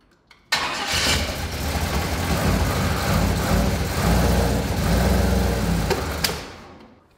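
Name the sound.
Big Red's new engine starting and running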